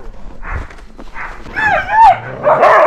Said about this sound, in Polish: Tam już czekają pieski.